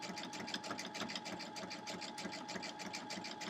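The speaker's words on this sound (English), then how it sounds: "And then I just stitch off the batting" A sewing machine stitches through quilt batting with a rapid, even needle chatter and motor hum, running continuously at close range without any talk.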